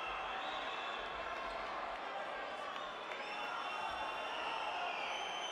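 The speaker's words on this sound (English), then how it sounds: "Knowledgeable crowd. Passionate crowd." Steady crowd murmur fills a basketball arena during a Basketball Champions League game between Movistar Estudiantes and Petrol Olimpija, a dense continuous roar with no standout cheers, heard under a faint commentator voice.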